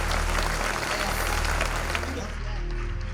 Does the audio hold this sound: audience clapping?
yes